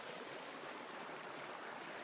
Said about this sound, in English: We have a little creek right next to the cabin.